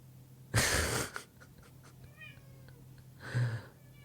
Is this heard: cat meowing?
yes